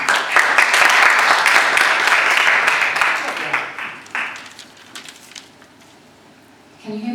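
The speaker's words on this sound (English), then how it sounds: "Give him a big clap." Audience applause at a political hustings, dense clapping from a seated crowd for about four seconds that thins out and fades, leaving quiet room noise and then a voice starting to speak.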